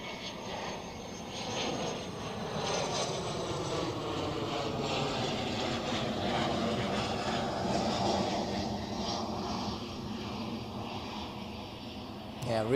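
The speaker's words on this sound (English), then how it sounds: "Here we have the Cessna citation." A Cessna Citation business jet at Zurich Airport produces a steady mid-distance engine whine and rumble, fairly constant in loudness across the stretch.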